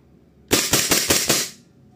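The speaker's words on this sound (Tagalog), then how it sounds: "VFC Umarex Glock 17 Gen 5 V2 firing." A VFC Umarex Glock 17 Gen5 V2 airsoft pistol fires four quick, sharp snapping shots in an even rapid rhythm, close and loud against a quiet background.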